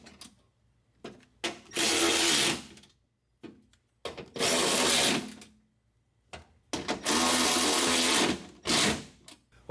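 Power tool tightening window regulator bolts on a Honda Odyssey door, three loud close bursts of whirring separated by short pauses and small clicks.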